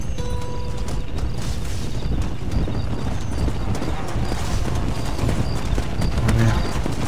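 Horse hooves clip-clopping in the video game Red Dead Redemption: Undead Nightmare, a steady, loud rhythmic trot of close hoofbeats running throughout, with faint background game sounds.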